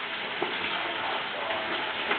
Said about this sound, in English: now you can hear this sizzling